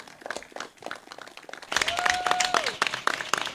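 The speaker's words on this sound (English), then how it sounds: "A round of applause for Mr." Audience applause for an award honoree at a meritorious service award ceremony builds into a steady, fuller round of clapping halfway through. Voices and a tonal sound run alongside it.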